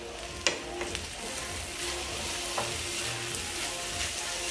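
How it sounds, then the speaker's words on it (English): Chicken and bell peppers sauté in a hot pan with a steady sizzle and frying crackle, broken by a few sharp clinks and stirring scrapes, close and continuous with no talk. "So my chicken sauteing, I'm just gonna go in with my peppers and just saute this"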